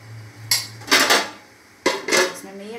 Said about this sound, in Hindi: अब मैं इसे एक प्लेट में निकाल के बताती हूँ आपको।